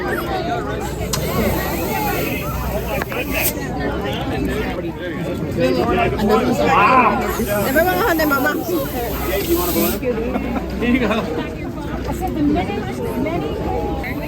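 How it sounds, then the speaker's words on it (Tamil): Balloons are inflated at a stall during an outdoor Public Safety Day fun event in Maryland, with a continuous loud hiss of air under a crowd's babble and nearby talking. "இங்க பலூன்லாம் நல்லா டிசைன் டிசைனா ஊதிட்டு இருக்காங்க"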